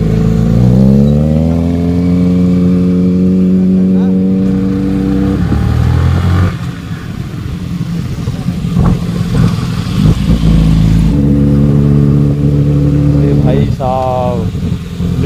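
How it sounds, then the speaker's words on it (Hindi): A Kawasaki Z900 motorcycle engine revs loudly and repeatedly, rising and falling in pitch, with a rough idle between bursts and people talking over it. "भाई क्या ही आवाज़ इस बाइक की"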